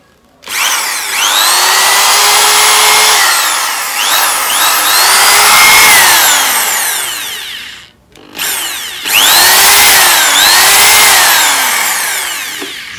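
A 750-watt power tool running off a portable solar generator whirs up loudly, runs with a rising and falling motor pitch, stops for a brief moment, then spins up again and winds down near the end.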